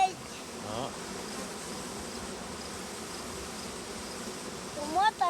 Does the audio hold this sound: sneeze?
no